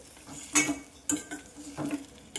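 Tamarind juice poured over fried okra in a pan, with a few sharp splashes and sizzling scrapes that rise and fall over a couple of seconds.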